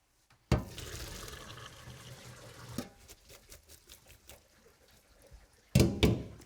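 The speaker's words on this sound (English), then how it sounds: "So I'm gonna go drain that now." Water runs steadily into a kitchen sink as pasta water is drained, a continuous splashing pour that eases off and then returns with a louder burst at the end.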